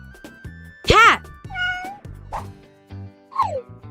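A cat meows several times in short, rising-and-falling calls spread across a few seconds, interleaved with nearby talking; the meows may be a voice imitating a cat.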